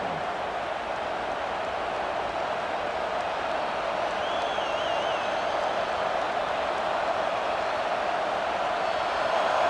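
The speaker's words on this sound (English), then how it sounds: "this home crowd is fired up and ready to make a difference today" Steady broadband roar of a home crowd cheering at a college football game, Ohio State versus Oklahoma, sustained and loud throughout with no break.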